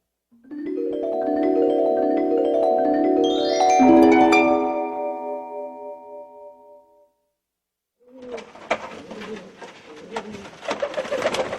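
Several pigeons coo in overlapping, repeated phrases, fairly near and clear, during a Korean children's story; after a short pause a busier stretch of bird calls and rustling follows.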